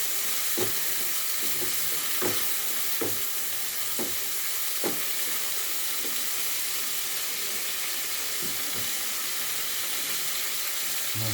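Pork for Batangas-style binagoongan sizzles steadily in a pan with water added, while a utensil stirs it with repeated scraping clicks over the continuous hiss.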